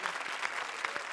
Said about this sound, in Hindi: जोरदार तालियां हमारी सारी जोड़ियों के लिए